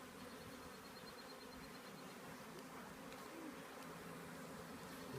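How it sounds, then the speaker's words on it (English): Honey bees buzz steadily throughout an open hive check, a dense, continuous droning swarm close by with no talking over it. "There's a bee with pollen."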